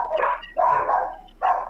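A dog barks three times in quick succession, close and loud, with short gaps between the barks and no other sounds around them.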